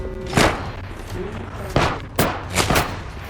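Sniper rifle fire in the video game Apex Legends: several sharp, loud shots spaced irregularly over a few seconds, with game sounds and background noise between them.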